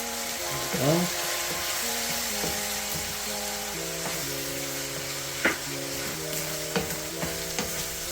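Pork and holy basil stir fry with oyster sauce sizzles steadily in a hot pan, a constant frying hiss with a few sharp spatula clacks near the end and a humming tone underneath.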